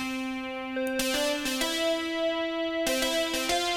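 A bright synth lead from a Korg M1 plays a simple melody in Pokémon-style game music, sustained notes punctuated by sharp, percussive attacks, clear and alone with no voices.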